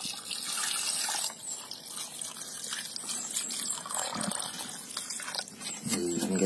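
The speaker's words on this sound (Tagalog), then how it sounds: "So, lagyan natin ng tubig" Water pours steadily into a pot for pork soup with a continuous splashing trickle, close by and moderately quiet, with no one speaking.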